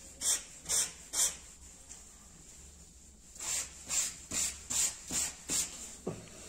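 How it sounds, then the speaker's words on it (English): Hand sanding shapes the leading and trailing edges of a model glider wing core into an airfoil, giving rhythmic back-and-forth rasping strokes, close and fairly quiet, in two bursts separated by a pause. "Now I'm going to sand into an airfoil the leading edge and the trailing edge by hand."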